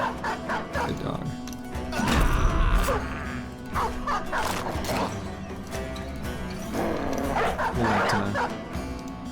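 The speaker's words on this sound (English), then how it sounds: "We'll let the pups finish this guy off." Several dogs in a medieval battle game bark and yip in quick repeated bursts over clashing combat noise and a busy background din.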